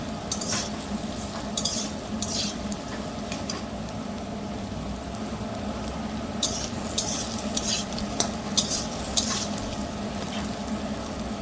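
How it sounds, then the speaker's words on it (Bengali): Potatoes fry in hot mustard oil, a dense steady sizzle that runs throughout, with a spatula scraping and stirring in short bursts against the pan. "এবার আমি আলুগুলোকে ভেজে নেব।"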